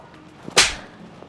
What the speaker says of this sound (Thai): นี่คุณตบผมทำไมอะ